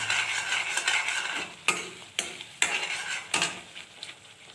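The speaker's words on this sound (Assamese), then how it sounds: "এইটো গ্ৰেভিটো বনাওঁতে বহুত লৰাব লাগে।" Biryani gravy being stirred in a pan for an aloo dum biryani, a steady scraping swish with a soft sizzle, broken by three sharp clinks of the spoon against the pan, close and with no talking.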